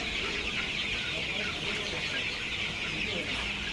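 Farm chickens, some sick with gamboro disease, cluck softly and intermittently over a constant high-pitched hiss in the background.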